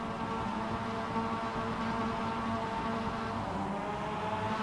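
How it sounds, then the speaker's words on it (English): Mazda MX-5 race cars at the Nürburgring Grand Prix circuit, a steady, continuous engine drone with layered harmonic tones holding level throughout, heard from a distance with no voices. "You can hear the engine start to harmonize."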